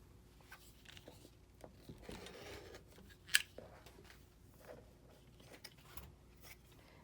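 Scissors snipping quilt fabric along a stitch line, quiet and close, with soft rustling cloth and one brief crisp cut standing out in a calm room.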